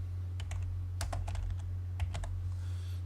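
Keys clack on a computer keyboard in a short burst of typing, ending with a firmer Enter press, close and clear over a steady low hum.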